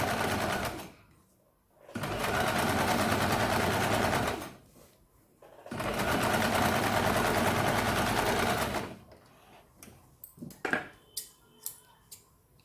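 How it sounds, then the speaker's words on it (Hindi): Sewing machine stitching a katori blouse runs in two long steady bursts of dense whirring, near and loud, with a short pause between them, followed by a few light snips and clicks at the end. "अब देखिए यहाँ पे आपको इस साइड में भी इसे सिलाई लगानी है।"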